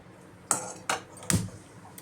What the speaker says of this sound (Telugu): పక్కన పెట్టి ఇప్పుడు గ్యాస్ అంటించి కడాయి వేసుకుందామండి.